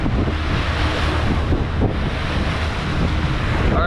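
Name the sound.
tidal water ripping around a bend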